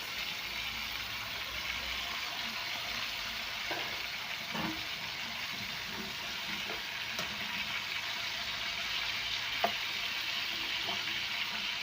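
Chicken frying in a pan with ginger, coriander, paprika, curry powder and black pepper, giving a soft steady sizzle throughout with a few faint clicks and scrapes, heard alone without talk.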